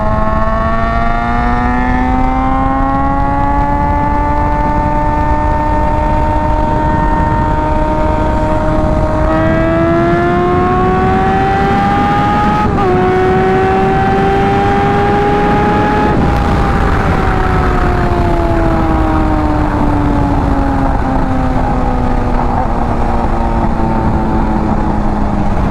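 A motorcycle engine drones steadily loud and close, climbing in pitch as it accelerates toward high speed, then holding and easing slightly, with constant wind rush underneath.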